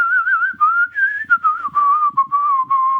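A person whistles a tune from Mary Poppins, one clear steady melodic line of gliding notes with short breaks between phrases, close and loud with no talking.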